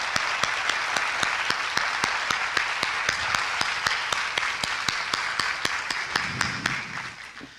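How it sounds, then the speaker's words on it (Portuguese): A congress audience applauding, dense sustained clapping with sharp individual claps standing out, continuous for several seconds and fading at the end, no talk over it. "receba essas nossas palmas aqui"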